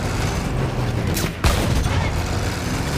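A single sharp explosion cracks out in the middle of a noisy World War I battle scene in the Battlefield 1 video game, heard over a constant dense rumble of combat.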